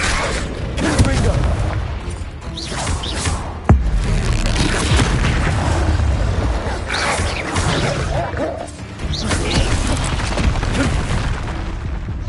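Confringo explosion spells in Hogwarts Legacy burst with repeated booms and crashes among clanking combat noise, one sharp impact near the four-second mark, and a voice calls out a spell under the action.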